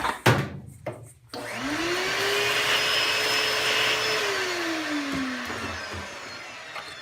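A vacuum cleaner clears dust out of a hole freshly drilled in wood for fidget spinner buttons. It starts with a few clunks, then spins up into a loud, steady whine that holds for several seconds before winding down.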